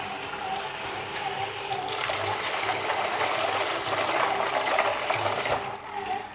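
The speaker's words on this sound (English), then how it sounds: "Okay, we've got cold water here." Cold water runs from a kitchen tap while a dinner party is being prepared, a steady splashing stream that continues for several seconds and tapers off at the end, with no talking.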